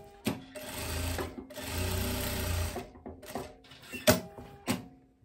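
Sewing machine stitching the front seam of a women's corset vest, running in two long loud bursts, then stopping for a few short taps and thumps as the fabric is handled.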